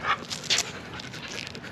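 A dog panting up close in a garage during a car wrap job, quick rhythmic breaths with a few sharper puffs, continuous and fairly loud, with no talking.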